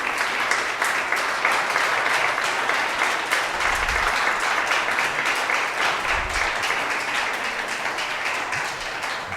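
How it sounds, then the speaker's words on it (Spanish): Congregation applauding in a church during a Sunday Spanish-language sermon, a long dense wash of clapping from many hands, loud and steady, with a couple of low thumps partway through. "Vamos a darle un fuerte aplauso al Rey de Reyes y Señor de Señores."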